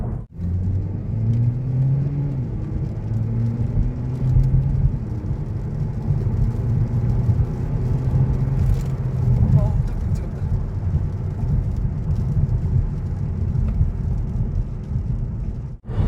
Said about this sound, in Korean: 저희가 일부러 스포츠 모드에다 놓고 가속을 했어요.